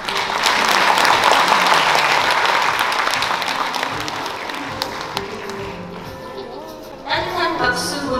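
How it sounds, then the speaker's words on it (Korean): An audience at a county citizens' day award ceremony in Yeongdong, Korea, breaks into loud, sustained applause that gradually thins and fades, then a speaking voice takes over toward the end. "따뜻한 박수 보내주시기 바랍니다."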